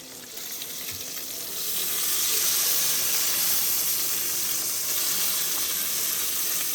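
Bacon and eggs frying in a pan for breakfast on a camping trip in the Ozarks, giving a steady, close, continuous sizzle and hiss that swells slightly after the first second and holds through to the end.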